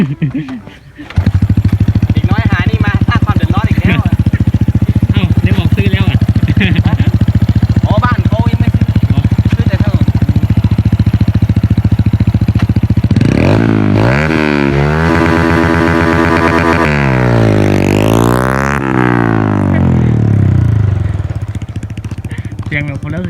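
Honda Wave 110 motorcycle fitted with a 125cc exhaust pipe, idling steadily and loudly up close, then revved hard several times with rising and falling engine pitch.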